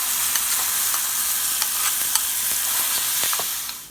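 Pasted mint chutney mixture stirred in a hot pan after spluttering mustard seeds, a loud dense sizzle with scattered spoon clicks and scrapes, close up, fading out at the very end, no voices.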